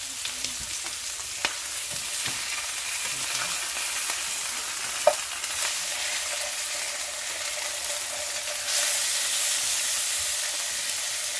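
Potatoes fry on a methylated-spirits burner with a steady, close sizzle and hiss that runs throughout, brightening slightly near the end, with a single sharp click midway.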